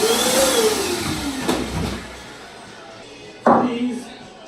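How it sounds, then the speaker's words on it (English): A vacuum cleaner sucking up a small pile of sawdust in a woodworking shop, whining with shifting pitch, then a sharp thump as it catches debris, under nearby movement. "I gotta vacuum up that little pile of dust,"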